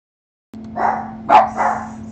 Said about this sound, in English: Sorry, I have dogs